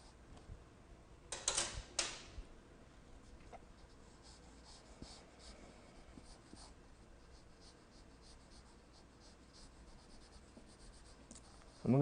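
Pencil scratching on paper while sketching a face, soft quiet strokes with a brief louder flurry near the start.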